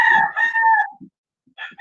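A rooster crows a long, loud cock-a-doodle-doo close by, followed after a pause by a short fainter call, with no talking.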